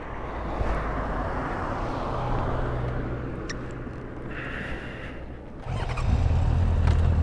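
A motorbike engine is started and idles, its low rumble rising abruptly near the end over steady background engine and road noise.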